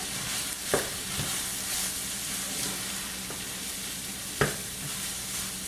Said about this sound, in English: So I'm going to add that all in. And give it a nice little stir.